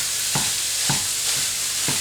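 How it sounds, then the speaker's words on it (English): Ground beef and chopped yellow onion fry in a pan with a steady sizzle, while a utensil scrapes and stirs in a few soft, evenly spaced strokes close by. "I'm gonna get our beef cooked up"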